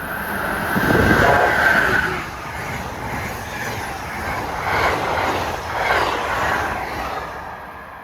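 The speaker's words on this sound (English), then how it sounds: "approaching fast as train 97. The Silver Meteor en route from New York to Miami." Amtrak's Silver Meteor, train 97 from New York to Miami, rushes past at speed as a broad, washing roar that swells and fades in waves, with a faint high tone early on.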